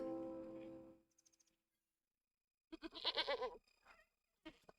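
A drawn-out voiced sound fades out, then after a short silence a loud, wavering goat bleat from the video game Wytchwood rings out, followed by a brief fainter call.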